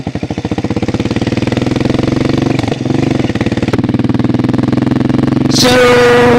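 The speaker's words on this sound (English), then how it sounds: "it being a single-cylinder engine, it is the largest single-cylinder engine that they have ever made" A Suzuki S40 Boulevard motorcycle with a large single-cylinder engine runs steadily nearby, its slow, loud thumping pulse continuous throughout, with a brief higher whine or rev near the end.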